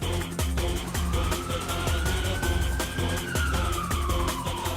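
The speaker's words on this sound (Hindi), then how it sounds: "ये एम्बुलेंस यहाँ क्यों आई है?" An ambulance siren wails steadily with a long rising and falling tone, heard over loud, driving dramatic background music with heavy rhythmic beats throughout.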